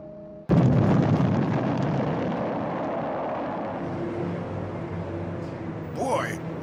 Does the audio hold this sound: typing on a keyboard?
no